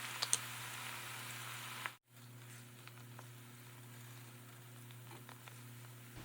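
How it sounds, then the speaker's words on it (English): Onion sautéing in hot vegetable oil for a budget Christmas stew gives a quiet, steady sizzle with a few small crackles, briefly dropping out for a moment before resuming with no talk. "once the oil is hot enough, add the onion and saute until it is translucent"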